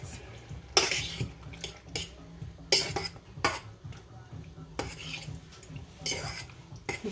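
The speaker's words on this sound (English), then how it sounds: "And you just mix it." Spoon stirring seasoning into tomato, onion and pepper in a pot, with irregular scraping and clinking bursts against the metal at close range, fairly quiet, over a low background hum.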